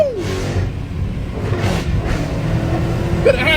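A freshly built engine with under a mile on it in a 1970 1/2 Camaro revs loudly up close, a steady throaty roar that swells and holds as the throttle is pressed, with a faint higher whine near the end.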